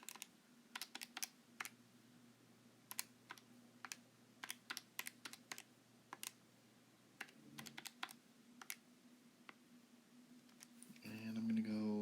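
Quiet, close keystrokes tap on a computer keyboard in irregular bursts of single clicks, followed by a brief louder rustle at the end, with a voice speaking briefly.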